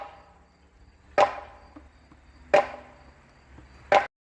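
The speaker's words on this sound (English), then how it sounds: "Sorry about the banging noise. Daniel's finishing tearing down the playhouse." Three sharp, isolated bangs land at even intervals as a wooden playhouse is torn down, each a hollow knock that rings briefly before fading into quiet outdoor ambience.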